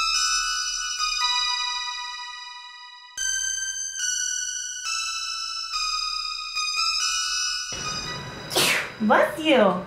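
A sneeze bursts out near the end of a kitchen scene during birthday-morning pancake making, following a stretch of sustained chiming electronic tones; voices are present.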